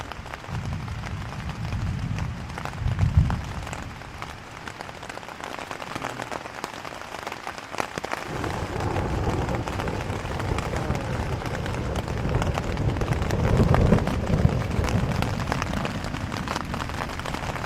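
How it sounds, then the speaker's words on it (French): Steady rain falls through a thunderstorm, a continuous hiss broken by low rolling rumbles of thunder near the start and again toward the end, with the storm filling the scene and nobody speaking. "Écoutez les éclairs, il y en a une tonne."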